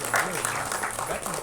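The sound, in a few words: audience applause at a festival event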